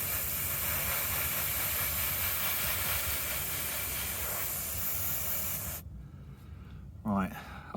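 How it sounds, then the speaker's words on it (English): A loud, steady hiss of an aerosol can spraying gloss varnish on a 1/48 scale model plane for several seconds, then it stops abruptly, followed by quiet room sound and a brief voice. "Oh, I hate spraying gloss. It never goes on very well."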